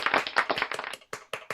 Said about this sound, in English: Big round of applause, Chuck.